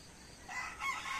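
A rooster crows among free-roaming pet chickens at a rural village farmyard, a fairly faint, rising call starting midway and holding to the end, with no voices present.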